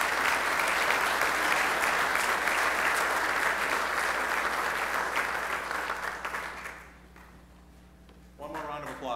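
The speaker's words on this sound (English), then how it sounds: "One more round of applause, please." An audience applauds an award winner at a senior salute ceremony in Strongsville, a loud sustained burst of clapping that fades out after about seven seconds, followed by a brief lull and then a speaking voice.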